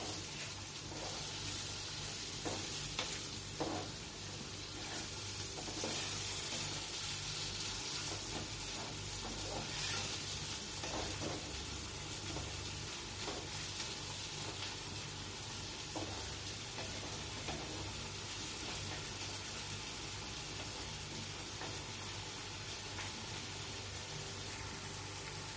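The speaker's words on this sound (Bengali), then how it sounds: "এবার দেখো, টমেটোটা আমি একটু নরম হতে দেবো।" Tomatoes softening in a hot pan, a faint, continuous low sizzle and hiss with occasional soft clicks and pops, steady throughout with no talking.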